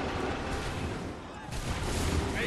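Musket volleys in Assassin's Creed III Remastered at Lexington and Concord, dense crackling gunfire bursts with a louder swell midway, mixed with shouted orders and battle din.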